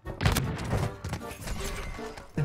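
Shotgun fire in a Warzone match: several close, heavy blasts with thuds between, the loudest at the start and another near the end.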